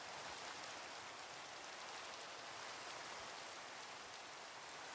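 Steady rain falling in Minecraft, a constant dense hiss of droplets on surfaces with no break, fairly quiet and even throughout.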